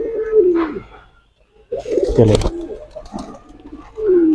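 Low, descending pigeon coos sound twice, close by, with a person's voice briefly speaking between them.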